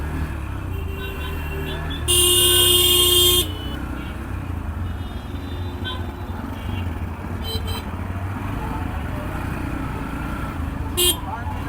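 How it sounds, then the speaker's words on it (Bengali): A traffic jam at Lakshmi Bazar in Bangladesh, with auto-rickshaws and buses idling and creeping. A long, loud horn blast stands out, shorter toots follow, and voices talk nearby. "প্রচুর জ্যাম লক্ষ্মীর বাজারে প্রচুর জ্যাম ভাই প্রচুর জ্যাম লাগে"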